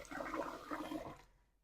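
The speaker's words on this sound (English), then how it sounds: "the bay leaves I tend to rinse because they are leaves right off of a tree" Water runs briefly from a kitchen tap while bay leaves are rinsed, a close, steady splashing rush that cuts off and fades after about a second.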